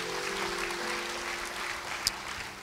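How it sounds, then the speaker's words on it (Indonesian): Church congregation clapping together during a sermon, a steady dense wash of applause held at moderate distance throughout, with one sharp brief click near the end. "Yang percaya beri tepuk tangan bagi dia."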